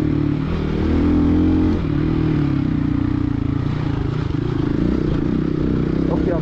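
An Xpulse 230 motorcycle on a rocky, sandy trail gives a close, loud engine drone that swells as it revs near the start, then settles into a steady throb with faint clatter.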